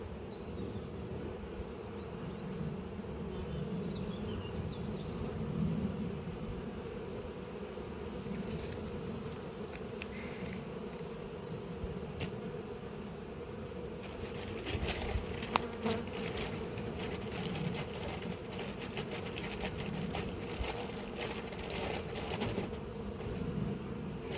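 Honeybees drone continuously inside a full hive box during a spring apiary visit, a dense close buzz with light clicking of frames and handling on top.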